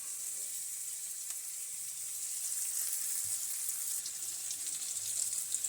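Onions frying in a pan until reddish, a steady close sizzle and hiss running evenly throughout with no talk.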